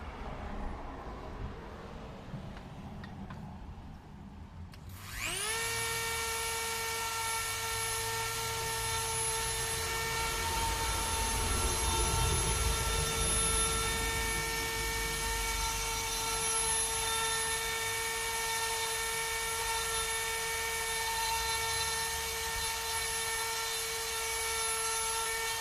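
A Dremel rotary tool working on wood spins up after a few seconds of quiet room noise, then holds a steady, loud, high-pitched whine for the rest of the time.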